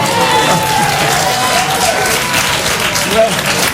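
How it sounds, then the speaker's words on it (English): Television studio audience at a political debate applauding, dense sustained clapping from a large crowd, loud and close, with someone speaking over it. "the Conservatives among you may be applauding just as loudly as Labour members"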